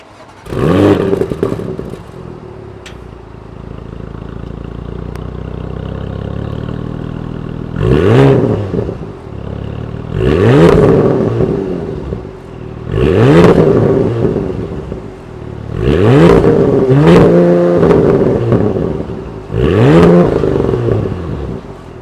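A 2025 Porsche Macan GTS with its high-output 2.9-liter twin-turbo V6 starts and settles into a low idle, then five sharp, loud throttle blips rise and fall in quick succession, close by and with no talking.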